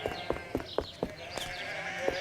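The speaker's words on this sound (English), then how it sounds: "How on earth am I going to get through all those sheep?" Several sheep bleat in quick succession, short repeated calls close by, some overlapping, over a light background.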